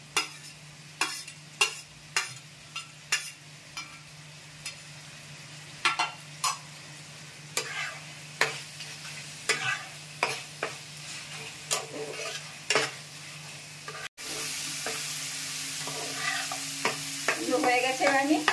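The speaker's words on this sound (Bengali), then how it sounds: "সব সবজি ভালো মতন যেন নাড়া লেগে ভাজা ভাজা হয়ে যায়।" Chopped zucchini and mixed vegetables stir-fry in a hot pan, a steady sizzle broken by repeated scraping strokes of a spatula, growing louder and fuller near the end.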